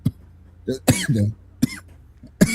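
A man coughs in several short, harsh bursts spread across a couple of seconds, close to the mic with quiet gaps between the coughs.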